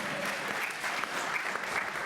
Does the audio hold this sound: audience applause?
yes